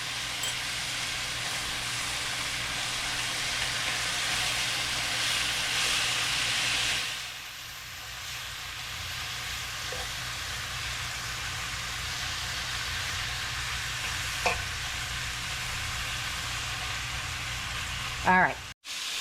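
Pork chops browning in a hot pan for a budget cranberry pork chop dinner, giving a steady loud sizzle and frying hiss that drops briefly before continuing, with a few clinks near the end.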